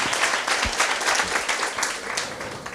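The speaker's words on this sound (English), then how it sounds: "Please, one more time, ladies and gentlemen, round of applause." An audience at a business talk on business model canvases applauds a speaker, a dense, even wash of clapping from many hands, moderately loud and continuous for a few seconds.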